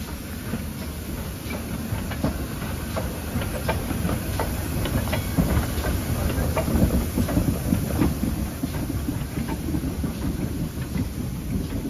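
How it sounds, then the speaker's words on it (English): A heritage train on the Bodmin & Wenford Railway in Cornwall rolls steadily along the track with rhythmic clicking wheels and a constant low rumble, fairly close and continuous with no voices. "it was time to see the train run round"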